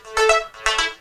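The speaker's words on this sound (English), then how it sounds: "the most important thing about the track, which is the Arpeggiator Synth" Bright synthesizer notes bounce in a quick arpeggiated pattern, rising and falling in short rhythmic bursts.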